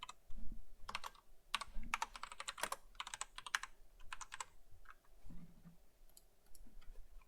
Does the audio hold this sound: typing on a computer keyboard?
yes